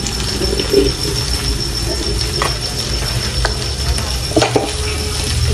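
Bhindi (okra) with spices sautés in a pan, a low steady sizzle under occasional scraping and clinks of a spoon stirring against the metal, close and fairly loud, with no talk.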